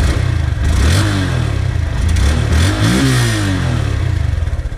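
A Honda Grom motorcycle with its stock exhaust, warmed up and revved close by: a loud, steady engine note that climbs and falls through several throttle blips, rough and mid-pitched, with no voices.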